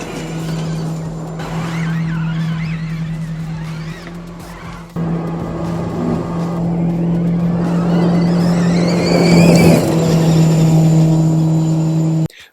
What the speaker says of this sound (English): With a power output of 500 kilowatts, this car sounds amazing.